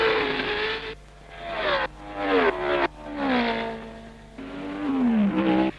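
Formula 1 cars of 1962 at the French Grand Prix scream down the straight in several loud passes, engine pitch rising and falling sharply as each car nears and recedes, without talk.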